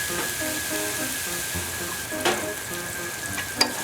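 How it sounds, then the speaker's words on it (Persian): Garlic and eggplant fry in hot oil for a northern Persian mirza ghasemi, giving a steady, moderate sizzle with a few sharper pops, under soft background music. "سیرتون که سرخ شد، بادمجون رو بهش اضافه میکنیم."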